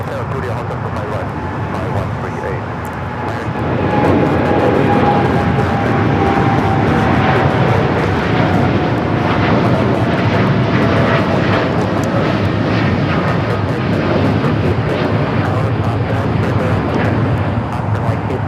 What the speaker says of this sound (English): United Dreamliner rolling down at 25 at right